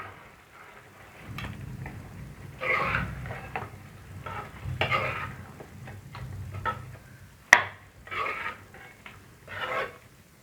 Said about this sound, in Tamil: இதையும் தூவிடுவோம். ஒரு கிளறிடுவோம்.